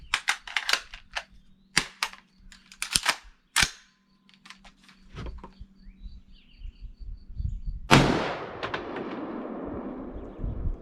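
Outdoor AR-15 rifle shots fired at homemade body armor: a fast series of loud, sharp cracks spaced irregularly, a few more isolated shots after a pause, then a final blast with a long echoing decay.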